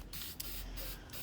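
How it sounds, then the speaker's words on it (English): Close hissing bursts from a spray paint can coating flower pots, several short sprays in a row with brief pauses between them. "you spray even coats all the way around"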